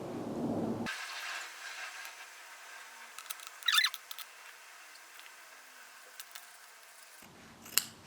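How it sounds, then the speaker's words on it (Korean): Scissors cut around a handmade lampshade for a clay lamp, a brief cluster of faint, close snips in an otherwise quiet stretch. "요거를 눈대중으로 그냥 잘라주면 된다고 하시거든요"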